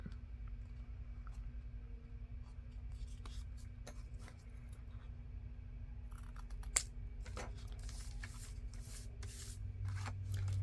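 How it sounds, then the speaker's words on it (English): Scissors or a corner rounder cut through paper tag corners in a few close, sharp snips and clicks, more frequent toward the end, over a quiet low room hum. "You can round all of your corners, or you can cut your tag shape in."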